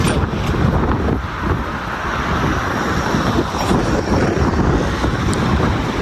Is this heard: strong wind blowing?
yes